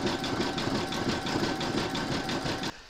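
A computerised embroidery machine sews a satin stitch on an appliqué flamingo design, a fast rhythmic mechanical chatter with regular needle pulses, close and steady, stopping abruptly near the end.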